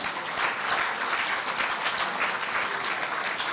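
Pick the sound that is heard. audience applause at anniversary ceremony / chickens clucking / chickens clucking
audience applause at anniversary ceremony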